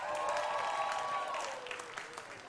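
Audience at a stand-up comedy show cheers and applauds, a dense, loud wash of clapping with whoops that tapers slightly toward the end.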